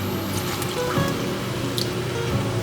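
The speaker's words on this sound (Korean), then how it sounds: "이제 여기에 물을 부어주세요. 저는 물 750ml를 넣어줬습니다." Water pours steadily into a pot of spicy gochujang stew, a continuous close liquid splash and trickle running unbroken without any talk.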